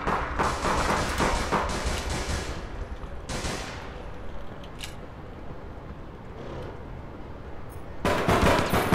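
Gunfire in the video game APB: Reloaded comes in dense automatic bursts at the start and end, with a couple of isolated shots and quieter stretches of game ambience between them.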